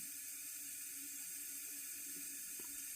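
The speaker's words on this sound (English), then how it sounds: "But that hiss that you hear is the water valve not shutting itself off." A well tank float valve that fails to shut off lets water hiss steadily, a constant bright rushing sound with no pauses.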